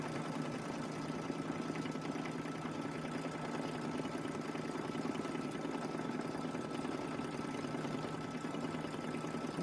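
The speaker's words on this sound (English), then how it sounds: "Right now we're doing our tack down stitch" A Brother embroidery machine sews an applique tack-down stitch, giving a steady, fast mechanical whirring hum with rapid needle rhythm throughout, fairly quiet and uninterrupted, with no talking.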